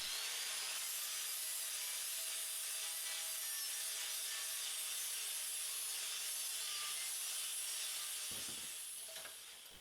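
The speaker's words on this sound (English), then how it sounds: "I can then use the flap disc to just get the last of the mill scale off to make it nice" A flap disc on an angle grinder scours mill scale off steel stock, giving a loud, steady, hissing abrasive rush that holds constant for nearly the whole stretch, close and without speech, tapering slightly at the end.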